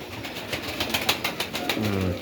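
Pigeons in a dovecote, soft cooing and rustling close by, with low intermittent coos and faint scuffling sounds throughout.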